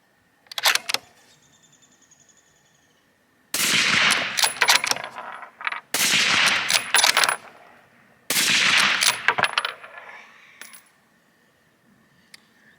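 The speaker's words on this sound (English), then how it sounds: "Three shots, here we go." Three loud gunshots are fired over a chronograph outdoors, evenly spaced a couple of seconds apart. Each sharp report rings out before fading, and a faint click comes first.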